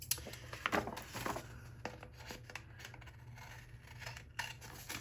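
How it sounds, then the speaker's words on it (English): Large scissors cutting through paper for a planner layout, a series of close, crisp snipping strokes in an uneven rhythm, quiet, with no talking. "I'm gonna use my big scissors for this one."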